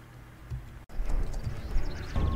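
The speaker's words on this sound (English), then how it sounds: "We're still running our horse though." Horse hooves gallop in the Astellia Online video game, a fast steady clip-clop rhythm that starts quietly, cuts out for an instant, then returns louder and continuous.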